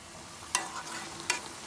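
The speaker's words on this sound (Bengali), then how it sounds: "তাই মশলা দিয়ে টমেটোগুলো কষিয়ে দিচ্ছি, সাথে কয়েকটা আলু দিচ্ছি।" Tomatoes and potatoes fry with spices in a pan for a fish dish, a soft steady sizzle close by broken by two sharp scraping stirs of a spatula.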